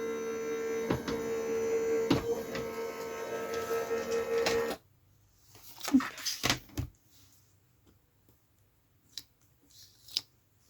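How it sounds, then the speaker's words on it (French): A hand-cranked die-cutting machine turns steadily through a card-making project, giving a continuous whirring hum with clicks for about five seconds, then stopping; a few sparse knocks and handling noises follow. "quand vous tournez la manivelle, vous allez plus rapidement que la machine électrique, qui elle n'a qu'une vitesse"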